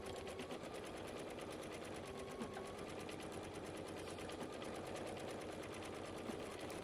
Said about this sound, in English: So here's the Brother embroidering my logo